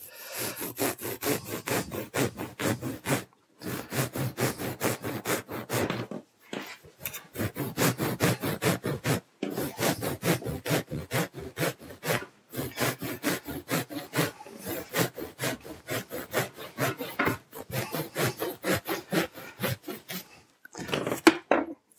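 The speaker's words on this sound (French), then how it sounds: "je vais couper un peu en biais" A roof insulation panel is cut at an angle with fast, steady rasping saw strokes, close and continuous, broken by a few short pauses.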